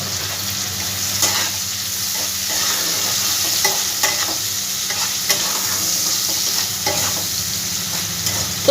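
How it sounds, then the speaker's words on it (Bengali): Chopped onion with salt frying in a pan for a Bengali shola kochu dish, a steady close sizzle broken by repeated scraping stirs and clinks, with no talking. "পেঁয়াজটা একটু লাল করে ভেজে নেব"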